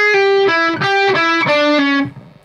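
A distorted electric guitar plays a bebop dominant lick of two groups of four notes, each picked note clear and evenly spaced in a steady, loud run, heard alone.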